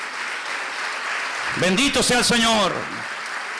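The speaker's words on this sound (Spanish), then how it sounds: "Dale un aplauso al Señor" A church congregation applauds during a Spanish-language service, a steady wash of clapping running beneath a preacher's voice as he speaks over it.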